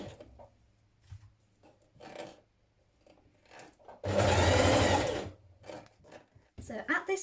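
A sewing machine stitching a knit dress, one steady loud run of about a second amid quieter handling noises and a person talking.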